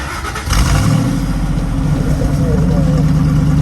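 A Ford 5.4-liter pickup truck V8 cranks and catches, then roars loudly and steadily with a deep rumble close by, with faint voices in the background.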